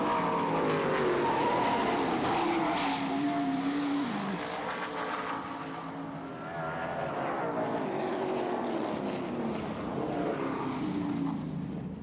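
Race car engines roar continuously as cars pass on Sandusky Speedway, with pitch sweeps of passing vehicles rising and falling over steady loud engine noise.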